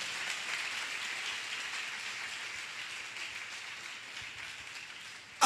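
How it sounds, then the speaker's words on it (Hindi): Church congregation applauding together in thanks to God after a sermon, a dense, continuous patter of many hands at moderate level, tapering slightly and then cut off. "ताली बजा के प्रभु को धन्यवाद।"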